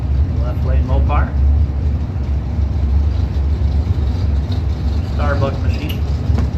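Mopar drag racing car staged in the left lane at a drag strip, its loud low engine rumble running steadily throughout, with faint voices over the racket.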